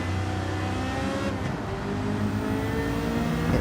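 A classic car engine in Gran Turismo 7 runs steadily throughout, a loud, continuous drone with a slight swell in the middle and no talk over it.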